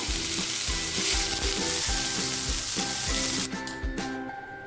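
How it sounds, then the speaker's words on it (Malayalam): Finely chopped large onion fries with ginger and garlic in a pan for a Kerala chicken pola masala, giving a loud, steady sizzle with soft stirring clicks and a faint tonal backdrop, without speech. "അതിലേക്ക് അരിഞ്ഞു വെച്ചിരിക്കുന്ന ഒരു വലിയ സവാള ചേർത്ത് കൊടുക്കുകയാണ്"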